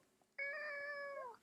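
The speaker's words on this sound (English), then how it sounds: "that's my kitty cat, Spike." A house cat lets out one clear, long meow that holds steady and tails off, fairly quiet against a soft room background.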